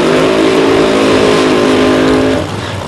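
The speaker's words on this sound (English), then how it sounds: "He will do a much shorter burnout" An alcohol funny car drag racer does a short burnout at the starting line, a loud, roaring engine drone with a steady pitch that drops off abruptly near the end, close and without talk.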